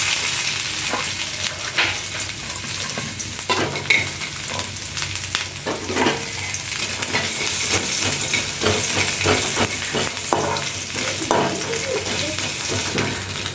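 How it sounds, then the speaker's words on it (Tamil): Grated coconut roasts in a pan until reddish, with a steady dry sizzle, repeated scraping stirs and occasional utensil knocks close by. "தேங்காய் செவக்கிற அளவுக்கு வறுத்து வச்சுக்கிடணும்"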